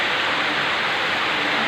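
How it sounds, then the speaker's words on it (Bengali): Heavy downpour of the year's first rain, a dense, loud and steady roar of drops with no breaks. "বৃষ্টি শুরু হয়ে গেছে, এবছরে প্রথম বৃষ্টি।"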